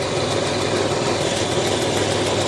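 A 2008 Pontiac Torrent engine idles with a steady, dense rumble close to the listener, constant in level with no speech.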